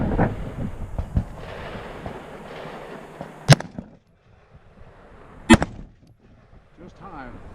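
Two sharp, loud rifle shots crack out a couple of seconds apart at an outdoor shooting range, each a sudden close blast with a brief tail, while background noise and some rustling sit between them.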